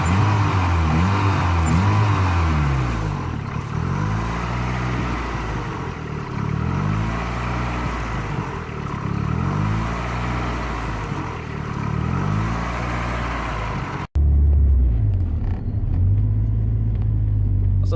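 Turbocharged Honda car on a test drive, a steady engine rumble with rising and falling pulls as it accelerates, close and continuous, ending in a sudden cut to a lower, quieter drone.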